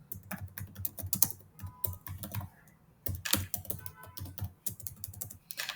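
Rapid typing on a computer keyboard, irregular bursts of clicky keystrokes with short pauses, close and fairly loud, no talk.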